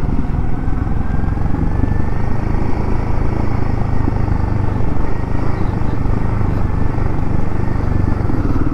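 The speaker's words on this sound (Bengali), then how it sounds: "ইঞ্জিন ব্রেকিং করে ফার্স্ট গিয়ারে আস্তে আস্তে নামছি।" A vehicle creeps down a steep, rough off-road mountain track in first gear, its engine braking with a loud, steady, close-up drone and rattle that holds for the whole stretch.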